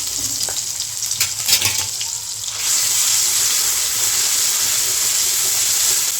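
Ginger, garlic and coriander paste hits hot oil in a kadhai, a few clatters and then a loud, steady frying hiss that sizzles on without pause.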